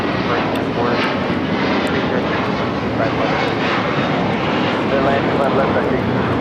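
Heavy airliner at LAX, a Boeing 787 Dreamliner or 747, a steady loud broadband engine roar that holds even and unbroken throughout.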